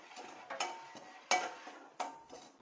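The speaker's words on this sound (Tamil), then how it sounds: "ரவா வந்து நல்லா பொறிஞ்சு வர அளவுக்கு நல்லா வறுத்துக்கலாம்" Dry semolina (rava) being roasted and stirred in a pan for pineapple kesari, giving a few soft scraping strokes with spoon clinks, close and fairly quiet with no talking.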